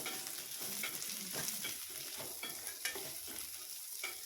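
Small onions, about a cup, fry in oil for thoothuvalai chutney while being stirred, giving a steady close sizzle broken by scraping stirs of the spoon against the pan.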